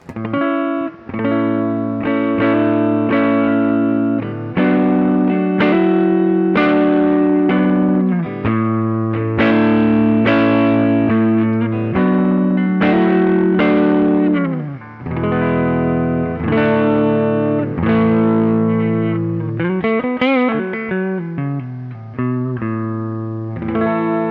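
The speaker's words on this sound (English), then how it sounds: "playing through my Cox Studio 120 amp." An Eastman SB59V electric guitar on the neck pickup plays through a Cox Studio 120 amplifier with the bright switch off, warm, rounded tone, strummed chords and single notes ringing out steadily for the whole stretch.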